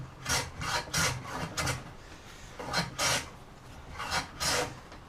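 Hand plane pushed over a wooden rustic candle holder, making a quick series of close, rasping strokes, about nine in five seconds, some louder where the blade bites, over steady low background noise.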